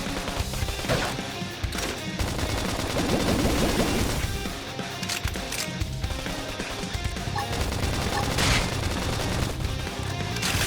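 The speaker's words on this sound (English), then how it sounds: "Tackle them with gunfire." Rapid bursts of gunfire and crashing impacts in Xenoblade Chronicles X Definitive Edition, dense and continuous, loud throughout with no speech.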